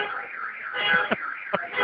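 A car alarm wails on a New York street, a steady looping siren tone that fills the whole stretch at moderate loudness, with a couple of short thumps cutting through.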